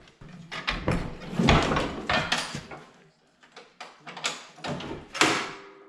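A spring-loaded deck latch on a Walker mower hooking into place, heard as close metallic clanks and rattles with a brief scrape, a short pause, then more knocks and a final sharp clack.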